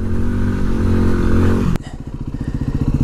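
A motorcycle roars loudly at high revs, then cuts off sharply, dropping to a rapid, rhythmic chugging idle that pulses close by.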